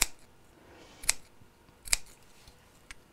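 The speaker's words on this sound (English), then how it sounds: "Then here I'm just going to snip into the curves." Snips cut into the curved seam allowance of a sewn fabric piece, giving three or four crisp, separate clicks spaced about a second apart, close and fairly quiet against a faint background hush, with no talking.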